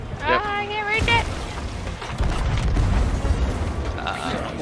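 Ship cannon fire in Sea of Thieves lands as deep booms with a rumbling tail over ocean ambience, and players talk over the shots.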